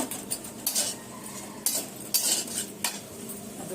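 A spoon scrapes and clinks against a kadai while salted food is stirred, several sharp metallic strokes at irregular intervals over a low background, with no voices.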